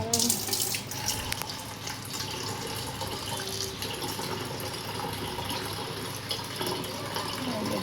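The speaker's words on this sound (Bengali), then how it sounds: "জলগুলো ভরে নিচ্ছি।" Tap water running into water containers in a home kitchen, a steady close rush of flowing water throughout, with a person speaking over it.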